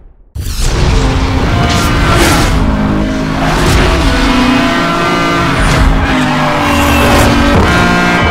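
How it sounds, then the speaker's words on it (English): A McLaren F1 engine roars loudly in the Need for Speed Hot Pursuit Remastered racing game, revving continuously with tire noise and rising and falling pitch as it accelerates. "Designed by Gordon Murray, the McLaren F1 held the record for the fastest production car in the world for 7 years"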